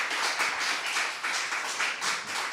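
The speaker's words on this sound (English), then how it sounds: "could I please ask for another applause for our two guests?" An audience at a poetry event applauds its two guests, a dense, steady wash of many hands clapping that carries on throughout without a break.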